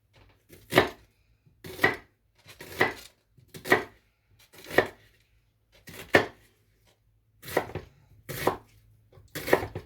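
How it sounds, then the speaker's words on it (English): Knife chopping an onion on a board, nine distinct evenly spaced knocks about one per second, close and crisp with quiet between strokes and no talking. "I'm going to mince my onion and throw off the hairy bit"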